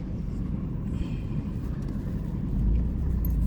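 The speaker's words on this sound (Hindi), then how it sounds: "कोई गाड़ी आ रही है शायद, उसकी आवाज़ आई मुझे" A car approaches on a mountain road in Spiti Valley, heard as a faint, distant low rumble that swells louder near the end.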